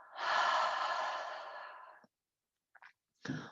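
A long, breathy open-mouth exhale during yoga practice, loud and close, tapering off over about two seconds, followed by silence and a couple of brief, soft breath sounds.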